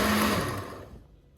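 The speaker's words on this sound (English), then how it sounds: "So now I'm just going to put in a blender and blend" A kitchen blender chops tomatoes and onions to a rough consistency, loud and steady at first, then winding down and fading as the motor stops.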